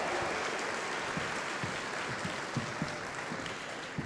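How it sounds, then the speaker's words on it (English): Steady applause from a large crowd at the 2024 Pokémon World Championships opening in Hawaii, a dense wash of clapping that holds evenly throughout with no speech. "please, one more round of applause for that amazing Hawaiian welcome"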